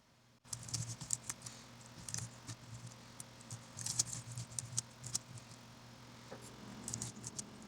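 A computer keyboard typing out a query in a spreadsheet: quiet, close, irregular clicks and taps in quick bursts, with no voices.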